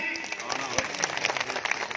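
Continuous applause from a crowd at a Congress party election rally in Fazilka fills the whole stretch, a dense patter of many hands clapping.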